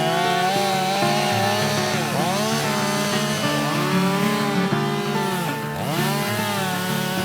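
A chainsaw cuts into a tree being felled, its engine droning loud and steady with rising and falling pitch as the chain bites into the wood, no voices over it.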